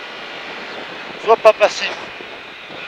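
A 1001 racing engine drones on a track, a steady distant whine beneath close wind buffeting, briefly covered by a man's short spoken remarks.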